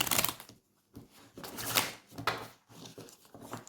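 Tarot cards being shuffled by hand in several rapid bursts of riffling and slapping, close and fairly loud, separated by short pauses of near silence.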